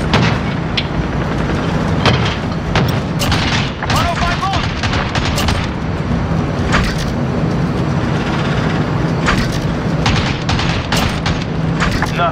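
A 105mm gunship cannon fires over and over in a video game, with loud, heavy booms at irregular intervals over constant battle noise, mixed with radio-style voices.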